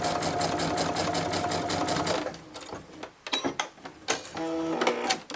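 Sewing machine stitching a tote bag seam a millimetre or two in from the edge, running in a steady rapid rhythm, then pausing and restarting in short bursts, close and clear with no talk.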